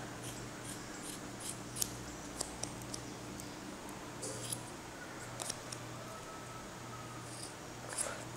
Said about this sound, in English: I'm gonna start cutting all that.